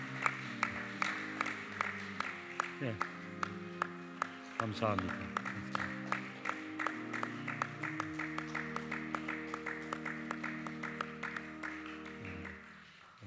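A church congregation at a Sunday worship service claps in a steady rhythmic beat over sustained organ-like music, the claps fairly distant and even, with a brief spoken word near the start.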